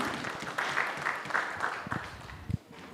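Scattered audience clapping at the close of a session at a multi-stakeholder debt conference, moderately distant with uneven individual claps rising and fading, a few louder hand claps standing out near the end.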